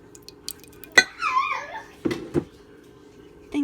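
A spoon dropping in a kitchen while making crockpot lasagna, giving a single sharp metallic clatter followed by a couple of softer knocks nearby.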